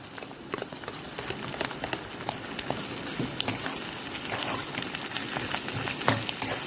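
Grated coconut frying in hot oil as a tempering for jackfruit erissery gives a steady, dense crackle and sizzle with many tiny pops, heard close up and alone.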